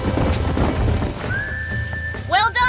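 Horses in Red Dead Redemption whinny with rising-falling neighs near the end, after a long whistle-like tone over low rumbling hoof noise, with talk underneath early on.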